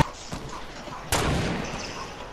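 Gunfire in a Fortnite battle royale match: a sharp crack early on, then a louder, close, heavy shot with a decaying tail, standing alone without talk.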